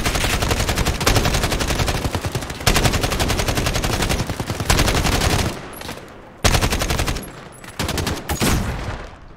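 Rapid automatic gunfire in the video game Call of Duty: Modern Warfare, loud and dense machine-gun bursts that run almost continuously, with short pauses between volleys.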